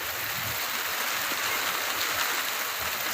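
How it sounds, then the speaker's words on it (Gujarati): Heavy monsoon rain pours down steadily, a dense continuous hiss of water striking surfaces with no break, fairly close and even throughout, with no voices. "તમે જોઈ શકો છો જોરદાર વરસાદ આવી રહ્યો છે"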